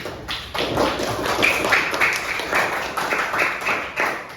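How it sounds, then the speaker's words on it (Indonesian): A small group claps steadily for several seconds, a close, even patter of hands with no cheering. "Tepuk tangan untuk Faik."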